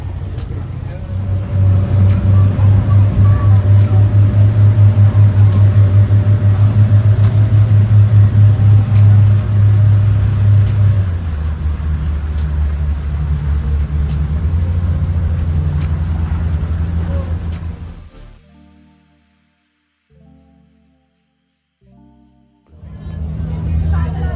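An open wooden abra ferry boat's engine drones steadily while crossing Dubai Creek, a loud low rumble that eases off partway through and then drops out briefly before returning.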